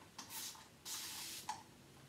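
An orchid-scented aerosol air freshener is sprayed in three short hissing bursts, the middle one the longest, heard close up and quiet with no talking.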